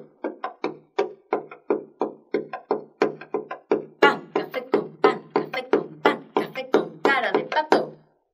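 Rapid wooden stomps and heel strikes in a driving, syncopated rhythm, close and fairly loud, growing busier and stronger toward the end.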